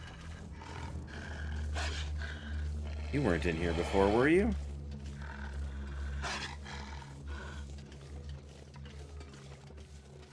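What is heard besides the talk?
wolf growling in the video game The Long Dark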